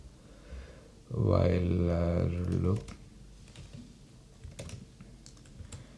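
Python code being typed on a computer keyboard, a few faint, scattered keystrokes following a brief loud voiced murmur.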